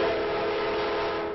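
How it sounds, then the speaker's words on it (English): An Amtrak train runs past a street-level railroad crossing with lights and crossing arms, giving a loud, steady rumble with a sustained tonal horn-like drone through the whole short stretch. "an Amtrak train running past the same crossing where the collision happened Sunday"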